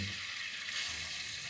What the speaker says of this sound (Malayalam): അതൊന്ന് നെയ്യിൽ വറുത്തെടുക്കാൻ